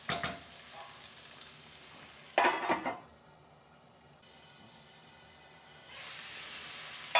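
Corn kernels warming in a pan with a little salt give off a steady soft sizzle and hiss, with a sharp louder burst of frying or stirring partway through, then a quieter stretch before the sizzle rises again.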